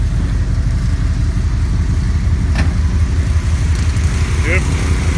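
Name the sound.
generators running outdoors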